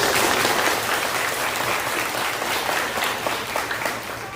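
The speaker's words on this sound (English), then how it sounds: "go ahead, give a clap for that" Families applauding at an elementary school sixth-grade stepping-up ceremony, a dense sustained round of clapping from a large crowd that holds steady and then slowly tapers off.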